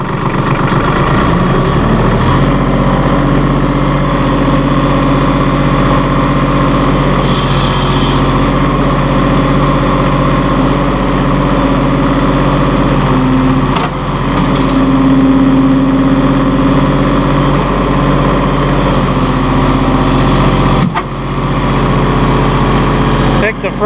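A 2005 New Holland TC30 compact tractor with loader runs steadily at raised RPM, a loud continuous diesel drone held close throughout with slight variations and a brief dip near the end; someone speaks over it.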